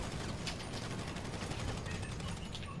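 Rapid, dense gunfire from a video game rattles continuously at close range for nearly three seconds, with faint voices mixed underneath.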